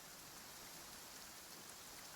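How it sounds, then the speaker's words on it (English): Steady rain pours in a video game, a constant broadband hiss with no breaks and no voices. "It's raining"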